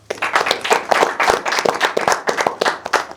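A studio audience claps for a new panelist joining a cricket talk show, a dense, steady round of applause with sharp hand claps throughout, close and lively, no talking over it.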